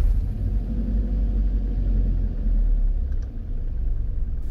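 Steady low rumble of a car engine creeping up an incline as the clutch is eased out and a little gas is added, close and continuous with a slight dip near the end; no talking.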